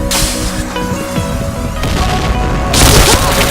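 Loud booming blasts and crashing bursts from a bomb-planting team shooter game, with a dense rumble and a sharp burst near the end.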